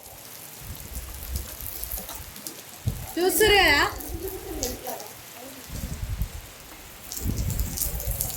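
Rain patters steadily on surfaces. Someone speaks briefly over it, and a short whistling or squealing sound cuts in partway through.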